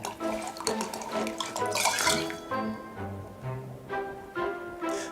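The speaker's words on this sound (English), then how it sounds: "it's saying that's a good pour of wine" Wine pouring into a glass in the video game Card Shark, a close, gurgling liquid stream with dripping splashes that swells, then thins into a few separate drops over a few seconds.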